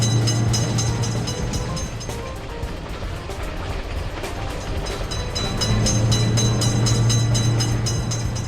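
A quick train speeds through a railway crossing in a video game, a dense continuous roar and clatter of wagons, loud throughout and swelling again near the end, with no one talking.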